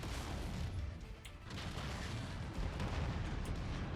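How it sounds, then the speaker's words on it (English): A dense, continuous roar of booming explosions in the mech combat video game Mechwarrior 5, a chain reaction of blasts layered into a loud, rumbling wall of noise with no pauses. "we just caused a chain reaction of explosions"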